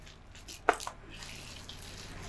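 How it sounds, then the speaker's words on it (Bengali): Water poured into biuli dal (urad lentil) batter for pakoras: a brief, faint splash and trickle close by, then a quiet room, no talking. "এতে আবারও একটু জল দিয়ে দেব।"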